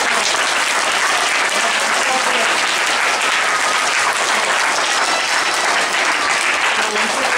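Loud, dense, continuous applause from a school audience at a Children's Day celebration at Don Bosco School, Guntupalli, honoring teachers, a steady roar of many hands throughout.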